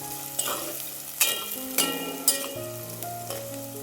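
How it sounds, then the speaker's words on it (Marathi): Finely chopped onion sautés in hot oil, giving a continuous close sizzle broken by several scraping stirs of a spoon, with a faint tonal hum in the background and no voices. "आता आपण हा कांदा छान तेलामध्ये परतून घेऊया।"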